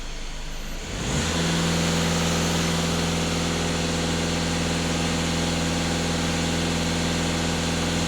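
A VW or Skoda car engine idles quietly, then rises sharply to a steady hold around 2500 rpm, a loud, even drone that stays constant and close.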